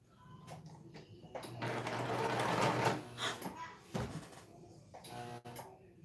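A newly unboxed serger overlock sewing machine runs a brief stitching burst on test fabric, a fast mechanical whir swelling then stopping, followed by clicks and handling noises, with a voice speaking faintly nearby.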